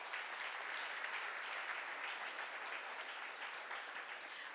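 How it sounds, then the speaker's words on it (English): Debate competition audience claps for a judge, an even, continuous roar of applause heard faintly and from some distance, unchanging across its length. "Please give her a huge round of applause."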